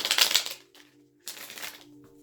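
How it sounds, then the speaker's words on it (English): Tarot deck shuffled by hand, two separate papery riffling bursts, close and moderately loud, separated by a short quiet pause with a faint steady hum underneath. "One more good shuffle."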